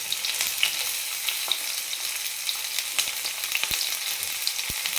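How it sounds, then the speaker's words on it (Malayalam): Ginger, garlic, green chilies and curry leaves sauté in hot oil with a loud, continuous sizzle. Scattered pops and a few light stirring knocks come through, with no voices. "കറിവേപ്പില, എന്നിട്ട് നന്നായി വഴറ്റുക"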